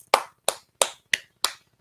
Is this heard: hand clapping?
yes